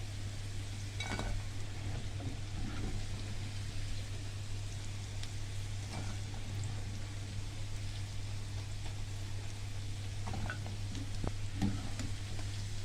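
Potatoes frying in hot oil in a home kitchen pan for a Ramadan breakfast dish, a steady close sizzle throughout with occasional clinks and stirring scrapes, before kofta is added.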